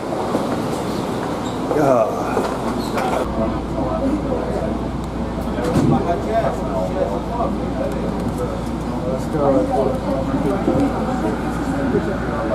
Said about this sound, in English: The final stop for this train will be Jamaica Station.